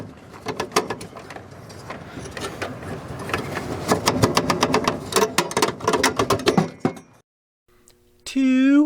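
An Attwood RV furnace igniter strikes in a rapid, regular train of sharp clicks lasting several seconds, with a person talking over it, then a brief near-silence before a rising tone.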